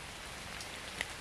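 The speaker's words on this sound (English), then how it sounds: "We are sheltering from the rain. Under an oak tree." Rain falls steadily under an oak tree, making a dense, even patter of drops on leaves and ground. The wash is continuous and moderately soft, with one slightly sharper drop near the end.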